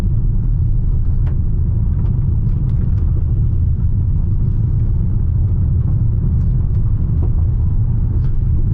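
Hyundai Palisade with a 3.8-liter V6 driving over rough rally-style terrain, heard as a steady, loud low engine rumble and road drone with faint rattles and knocks throughout, no voices.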